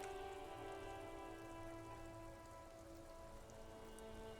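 Steady, dense rain falling in the Disco Elysium video game, a continuous even patter with a faint tonal hum beneath, soft and unbroken with no voices.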